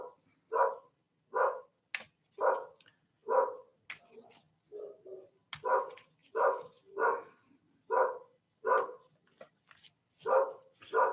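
Dogs bark in a steady, repeated series of about a dozen evenly spaced woofs, moderately loud and slightly distant, with one softer, lower bark in the middle and no talking.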